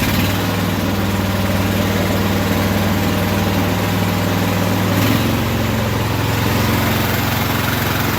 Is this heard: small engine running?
yes